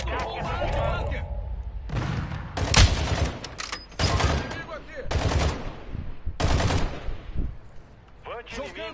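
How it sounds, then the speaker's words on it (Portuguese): Bunker-buster bomb explosions in a video game land as a run of loud, heavy blasts in quick bursts with rumbling tails, while a player talks excitedly in between. "Mandando bomba anti-bunker!"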